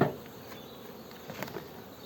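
Honeybees hum in a steady, soft drone around an opened hive during an early spring inspection, close and continuous with faint rustling.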